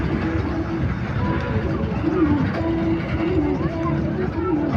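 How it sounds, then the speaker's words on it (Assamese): A small fairground train ride at an evening fair runs with a steady, continuous rumble and clatter, blended with a dense crowd murmur and voices close by. "এখন ওপৰত ধুনীয়াকৈ এনেকৈ ট্ৰেইন চলি আছে"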